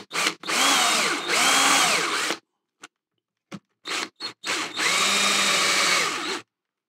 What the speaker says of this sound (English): I'm just going to spot the holes with a 1/4-inch drill.